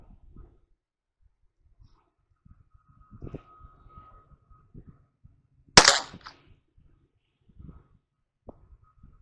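A .25 caliber round is fired through a coconut, giving one sharp, loud crack midway through an otherwise quiet stretch with a few faint handling thumps.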